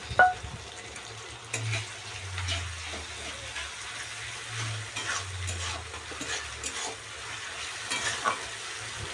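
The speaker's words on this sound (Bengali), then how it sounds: "আদা রসুনের পেস্টটা দিয়ে দিচ্ছি পেঁয়াজের মধ্যে তারপর ভালোভাবে কষিয়ে নেব" Onions with ginger-garlic paste frying in a pan for chicken curry, a soft steady sizzle under occasional stirring scrapes, with faint low background hum.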